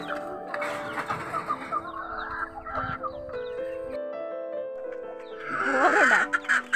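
Chickens cluck and call on a small farm, a mix of close and mid-distance clucks and squawks with a louder burst of fowl calls near the end.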